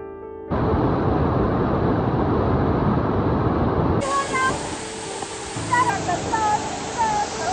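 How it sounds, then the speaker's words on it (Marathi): Continuous loud rushing roar of waterfalls flowing down from Harishchandragad fort in a jungle, broad and steady, with faint tonal chirps joining in the second half. "हे जे धबधबे वाहत आहेत ते हरिश्चंद्र गडावरून वाहत आहेत खाली"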